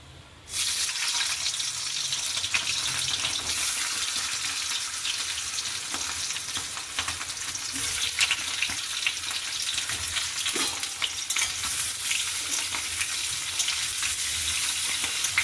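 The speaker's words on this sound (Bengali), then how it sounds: "একবারে পুরো আলুটা দিলাম না অল্প অল্প করে ভাজছি" Boiled potatoes fry in hot mustard oil, a loud, steady sizzle running unbroken from just after the start to the end, with small crackles and bursts throughout and no voice.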